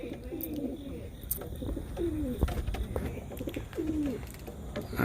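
Racing pigeon back from a 150-mile race cooing softly, a few low swooping coos repeated at intervals over outdoor background noise, fairly close, no speech.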